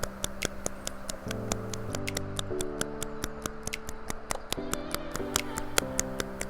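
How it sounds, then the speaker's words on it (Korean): Loud hand claps during a wrist-strengthening exercise for drummers repeat in a steady rhythm over background music. "박수는 최대한 크게 쳐주셔서 근육이 더 자극받을 수 있도록 해주시면 되겠습니다"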